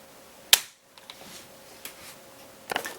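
Dry-fire trigger pull of an unloaded air gun fitted with a 4x32 scope: one sharp, close snap followed by quieter mechanical clicks, with a second cluster of clicks near the end.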